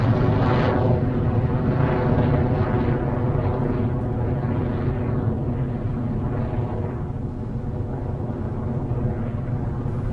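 Electron rocket lifting off on its Rutherford engines, a sustained loud, broadband roar that holds steady throughout with slight swelling and fading, no voices over it.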